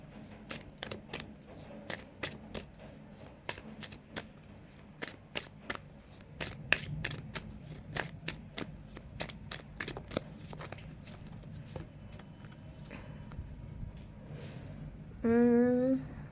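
A deck of archangel oracle cards being shuffled by hand, a steady run of crisp riffling clicks up close, ending with a brief tonal sound near the close, with no speech.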